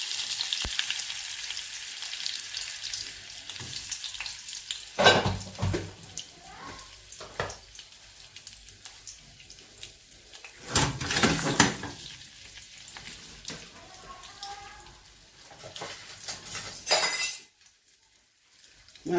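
Butter cubes and oil sizzle in a pan with a soft, continuous frying crackle, broken by occasional louder clinks and scrapes of utensils before the sound drops away near the end.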